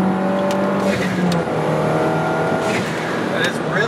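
A tuned car running on 91 octane fuel, its engine droning steadily up close from inside the cabin with some revving, while people talk over it.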